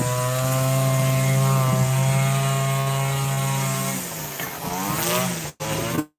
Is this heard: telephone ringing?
no